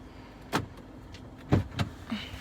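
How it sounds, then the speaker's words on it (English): A 2020 Hyundai Santa Fe Limited 2.0T FWD gives a few sharp mechanical clunks and clicks as its door locks release. The clicks are spaced irregularly and sound moderately faint against a quiet background hum, with no talking. "Oh, gotta unlock the car."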